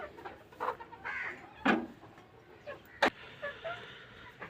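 Desi Golden Misri hens cluck in short, irregular bursts at close range, with a couple of louder squawks standing out against a steady farmyard background.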